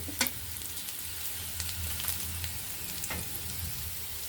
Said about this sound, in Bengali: পেঁয়াজগুলি বেশি লাল করে ভাজবো না।